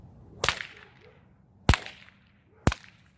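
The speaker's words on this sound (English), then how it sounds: "to get a clean crack, not necessarily a loud crack" Three sharp, loud whip cracks spaced over about three seconds, each a bright snap with a brief tail, practiced in a beginner Level 1 routine, nothing else audible between them.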